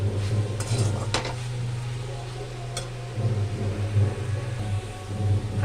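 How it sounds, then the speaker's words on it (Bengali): A spoon scrapes and stirs a coconut naru mixture of grated coconut and sugar in a pan over low heat, soft intermittent clinks against the metal over a steady low hum. "হালকা হালকা করে বারে বারে নেড়ে নেব, যাতে নিচে না লেগে যায়।"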